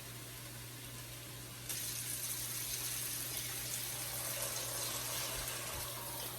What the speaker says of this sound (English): So I'm gonna do 4 cups of water.